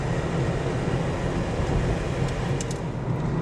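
CSX freight train rolling past close by on the Metropolitan Subdivision near Barnesville, a loud, continuous rumble of rail cars with faint squeals near the end.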